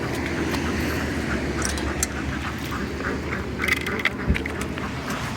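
Ducks quack repeatedly in the background amid outdoor noise and a low rumble, with a few louder thumps near the end.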